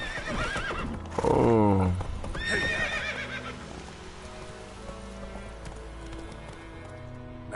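Roach the horse in The Witcher 3 gives a loud, shrill neigh followed by clip-clopping hooves, with rain falling steadily in the background and a brief voice exclaiming.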